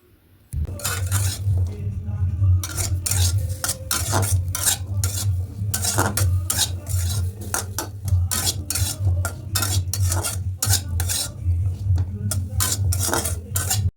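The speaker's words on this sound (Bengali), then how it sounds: "তো এই মশলা দিয়ে একটু হালকা নাড়াচাড়া করে একটু ভাজা ভাজা করে" Spices being stirred and fried in a pan for a toddler's home-cooked meal: a steady run of close scraping and clinking of a utensil against the pan over a continuous low sizzle, with no talk.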